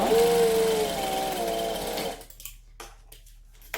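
A sewing machine sews a seam on a bag, a whirring run with rising and falling pitch for about two seconds, then stopping, followed by a few soft handling clicks.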